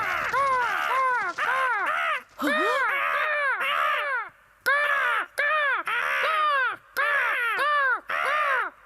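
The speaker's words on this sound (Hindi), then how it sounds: "कौवों ने किया हम सबको परेशान।" Crows cawing in a Ninja Hattori cartoon, a loud, close run of harsh repeated caws in quick bursts with brief pauses between groups, continuing throughout.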